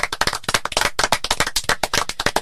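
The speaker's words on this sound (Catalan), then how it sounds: "un fort aplaudiment al Pol Martínez" A studio audience on a Catalan television show claps loudly and briskly, many hands beating close together in a steady, dense burst of applause.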